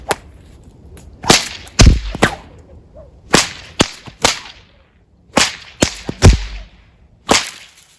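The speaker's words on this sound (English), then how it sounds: "the third crack happens as I lift up the whip and then pull the slack out of it" A whip is cracked in a breakaway sequence of loop and slack cracks, producing about a dozen sharp, loud reports in short irregular clusters separated by brief quiet gaps, with no talking.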